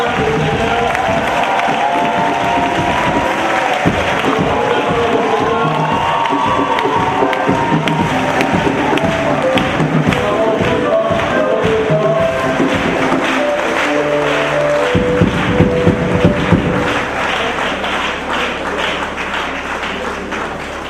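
A church congregation at a Sunday service cheers and applauds loudly and without pause, with shouts and whoops over dense clapping. The crowd is close and the noise holds the same level throughout.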